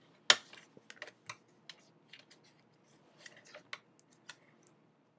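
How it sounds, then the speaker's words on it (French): Folds being creased into a paper card for an accordion fold: a sharp snap of paper at the start, then scattered small taps, scrapes and rustles at irregular intervals, close and quiet, with no talking. "Je vais marquer mes plis tout de suite."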